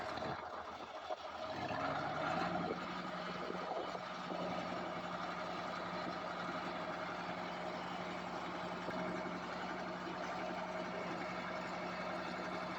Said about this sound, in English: Now I'm ready to take the tractor for a drive to warm it up.